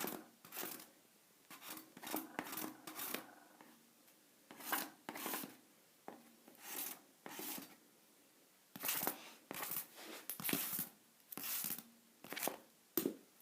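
A sanding block rubs up and down chalk-painted poster bed spindles, giving short rasping scrapes in irregular bursts with brief pauses between strokes, close and fairly quiet.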